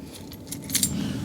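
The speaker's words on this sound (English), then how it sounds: "Right, that's the old keys." A bunch of keys jangling close up, a short metallic rattle with a couple of brighter clinks toward the end, over a low background hum.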